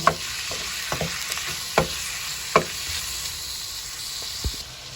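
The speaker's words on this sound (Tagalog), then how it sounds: "inix lang natin ulit para hindi masunog ng ating sibuyas at bawang" Onion and garlic stir-fry in a hot pan, a steady close sizzle broken by several sharp clinks and scrapes of a utensil stirring, with no voices.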